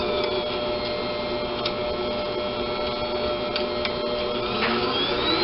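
Electric mixer beating chocolate chip cookie dough, a continuous close mechanical whir with faint ticking and clicks throughout, no voices.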